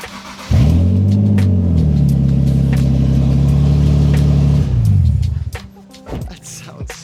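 A Nissan 370Z with an ISR single exit exhaust starts up and revs with a loud, deep, raspy roar that climbs and holds steady for several seconds before cutting off, leaving faint background noise.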